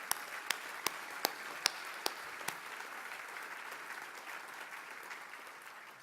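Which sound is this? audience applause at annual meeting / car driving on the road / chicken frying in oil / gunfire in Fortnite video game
audience applause at annual meeting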